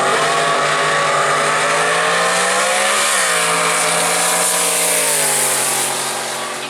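A drag racing car at World Wide Technology Raceway accelerates hard down the track with a loud, rising engine howl. It shifts gear once midway and then fades slightly toward the end.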